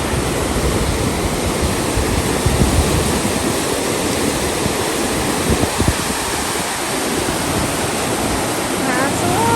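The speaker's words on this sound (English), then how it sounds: "I've never seen the water flooding down that much." Heavy rushing water floods down in a steady, loud broadband roar, like a torrent or waterfall, close by and continuous, with faint voices briefly audible beneath it.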